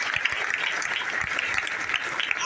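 An audience at a stage-sharing event in Thane breaks into loud, continuous clapping, a dense, even roar of many hands with no talking over it.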